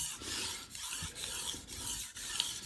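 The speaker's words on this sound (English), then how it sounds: "I like to sharpen to where I can see the bevel taking on the stone." Kitchen knife of SG2 steel, edge chipped, sharpened by hand on a King 300 splash-and-go water stone: steady, close rasping strokes in a repeating back-and-forth rhythm, with no voices.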